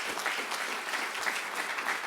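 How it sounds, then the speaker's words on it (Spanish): A Spanish-language church congregation at Hudson Church breaks into brisk, steady applause during a sermon, the clapping close and full with a slightly pulsing rhythm over about two seconds. "Démosle un aplauso a Dios por su buena voluntad."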